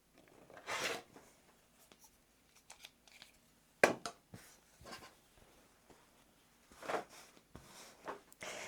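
Scissors snip off small scraps of quilting fabric while a fabric pouch is sewn, a few sharp cuts and rustles spaced apart over near-quiet gaps.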